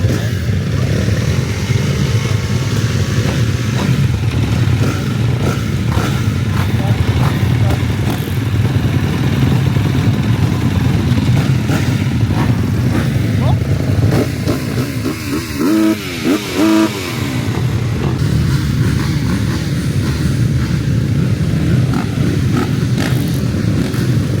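Motorcycle engines rumble and rev loudly nearby, a continuous throaty roar with shifting pitch as bikes ride past.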